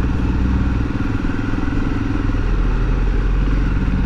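A Honda CG motorcycle carrying about 100 kilograms of sacked dough on its rear seat rumbles past at close range, its steady engine drone continuous and fairly loud with a clattery edge throughout.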